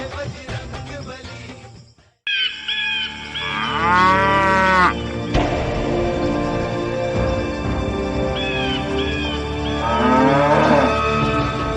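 A cow moos loudly nearby, a long drawn-out low call, followed later by a second moo over steady background noise.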